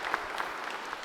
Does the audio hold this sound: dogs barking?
no